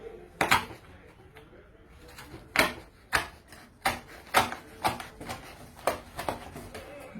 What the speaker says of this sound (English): So let's cut the handle.